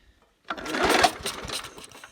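A 1980 LawnFlite push mower with a vertical pull start and a carburetor problem sputters briefly after a moment of quiet, a rough close engine burst lasting about a second and a half before fading.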